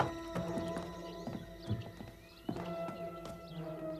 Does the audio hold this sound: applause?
no